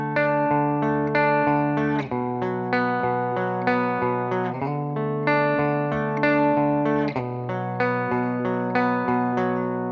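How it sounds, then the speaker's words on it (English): An electric guitar with a clean tone rocks back and forth between two power chords, ringing evenly with steady strummed attacks for several repetitions, loud and close with no talking. "all that we're going to do is switch back and forth between two power chords"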